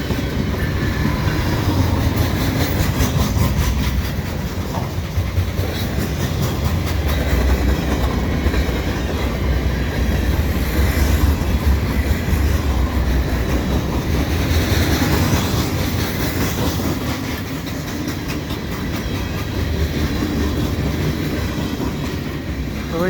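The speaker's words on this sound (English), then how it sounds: "with an Eastbound CN train here on Valentine's Day, 14th of February 2021" An eastbound CN freight train led by a C44-9WL locomotive rolls past on a sunny, calm winter day, a continuous loud rumble with rhythmic clickety-clack of wagon wheels over rail joints, steady throughout with no talking.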